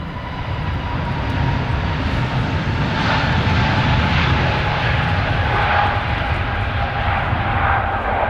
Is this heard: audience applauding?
no